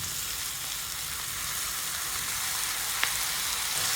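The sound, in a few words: pineapple pieces added to frying curry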